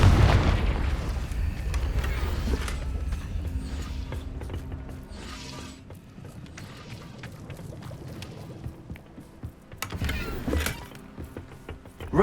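In the Hogwarts Legacy video game, a Confringo fire spell blast lands with a low booming impact, followed by mechanical clanks, rumbles and scattered clicks, with a second burst of activity near the end.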